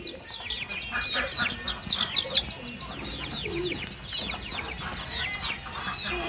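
Chickens on a farm cluck over and over, a busy chorus of fairly close, overlapping chirps and clucks rising and falling above a low background murmur.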